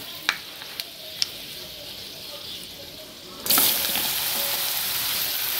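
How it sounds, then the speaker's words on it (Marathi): Mustard and fenugreek seeds crackle in hot oil for raw mango lunji, a few sharp pops at first, then a sudden loud steady sizzle as more is added, close up. "मोहरीचे दाणे तडतडले की आपण मेथीचे दाणे टाकून घ्यायचे"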